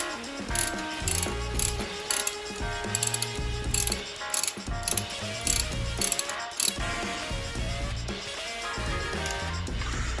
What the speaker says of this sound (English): Finally, tighten up all the clamps.